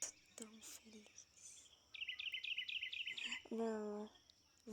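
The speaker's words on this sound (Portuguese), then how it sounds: "Voa, voa, passarinhos, canta." Birds sing in a forest: a quick series of bright, repeated chirps, then a short whistled call, clear and fairly close against quiet surroundings.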